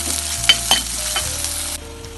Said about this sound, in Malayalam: ഒന്ന് വഴറ്റി കൊടുക്കണം.